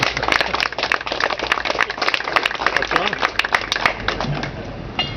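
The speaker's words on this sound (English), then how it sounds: "I think we need an applause for that one." A small outdoor gathering marking the historic bell from Great Barrington breaks into a round of crisp, scattered hand claps, with voices chatting over the clapping throughout.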